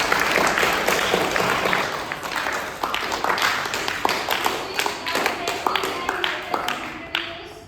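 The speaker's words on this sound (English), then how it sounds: "Please give a big round of applause to" An audience at a school quiz orientation programme gives a sustained round of applause, dense clapping filling the room for several seconds before thinning into a few scattered claps, with voices mixed in.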